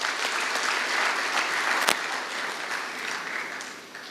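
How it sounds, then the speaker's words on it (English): A large audience at an MBA batch induction programme gives a dense, sustained round of applause that fades slightly toward the end. "I think you all should give a round of applause for yourselves"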